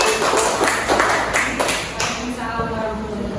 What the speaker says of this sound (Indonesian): boleh tepuk tangan dulu untuk kelompok Matahari.